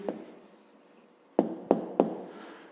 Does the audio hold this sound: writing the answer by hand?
yes